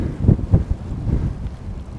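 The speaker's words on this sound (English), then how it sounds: "Wow, intense wind." Strong gusts buffet the microphone while bicycling past other riders, a low rumbling roar that swells in bursts and then settles into a steady blustery rush.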